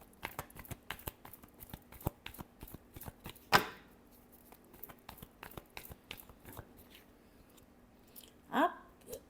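Tarot cards being shuffled by hand, with quiet close rapid riffling taps and flicks in uneven runs and two sharper louder riffle bursts standing out, under light talk.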